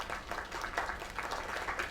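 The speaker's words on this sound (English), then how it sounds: "Another round of applause." Steady applause and clapping from a crowd in the video game Lake, continuous and fairly even, with some voices mixed in.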